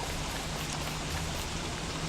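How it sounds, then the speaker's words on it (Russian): Steady rain falling in the survival video game Don't Starve Together, a soft continuous patter heard alone at low level. "О, дождик, дождик, дождичок."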